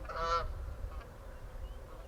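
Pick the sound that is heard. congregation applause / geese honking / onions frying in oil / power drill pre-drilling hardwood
geese honking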